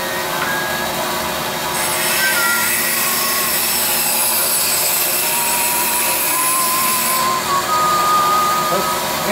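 Oliver 416D sawmill running steadily and cutting an inch-and-three-quarter white oak board, a loud continuous mechanical whine and hum with a bright saw tone that holds throughout, briefly rising in the middle.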